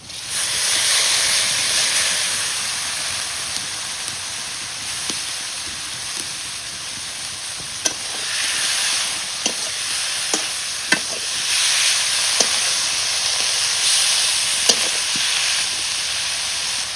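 Shrimp and fish frying in a pan with turmeric powder while making a village-style kochu shak bhorta with chal kumra, a steady loud sizzle with scattered pops and crackles and the occasional scrape of a stirring spoon.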